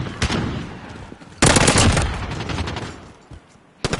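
Rapid bursts of SMG fire in Modern Warfare: a short burst, then a loud sustained stream of automatic shots lasting about half a second or more, tapering off, with a final brief burst at the end.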